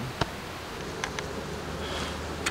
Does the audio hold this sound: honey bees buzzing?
yes